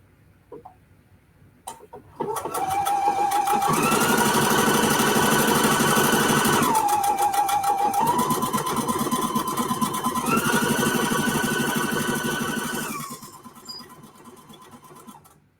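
A sewing machine stitches a buttonhole in a fast, steady mechanical whir up close, with its pitch shifting several times as the stitching changes direction, then trails off.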